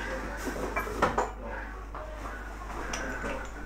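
A small handheld coffee grinder is handled at close range, giving a few light metallic clinks and rattles over a low steady hum.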